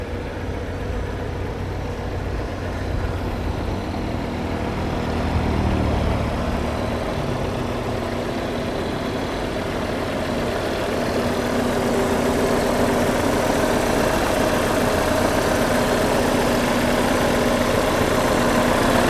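An Opel Blazer engine idles steadily with a constant low rumble and hum, heard close by from the engine bay, with no speech.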